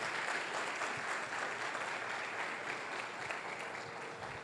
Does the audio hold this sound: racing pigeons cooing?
no